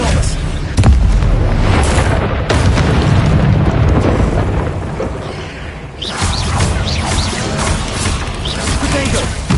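A spell-casting effect from the video game Hogwarts Legacy booms loudly amid continuous game explosions and crashes, with a voice talking over the dense, sustained noise.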